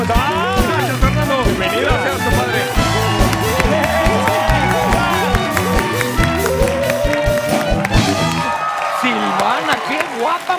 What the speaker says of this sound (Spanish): Venga el aplauso para Silvana Arias y Fernando Corona.